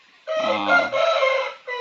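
A fighting rooster of the pachakaki type, a Sankranti pandem breed, crows once loudly and close, a long strained call that breaks briefly and then resumes, with no talk over it.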